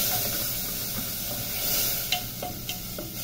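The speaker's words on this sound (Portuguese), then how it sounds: "ó, tá fritando. Como coloquei o azeite, acelerou um pouquinho." Chopped onion frying in olive oil in a pan in a home kitchen, giving a steady close sizzle with a few sharp clicks and scrapes from stirring, and no talking.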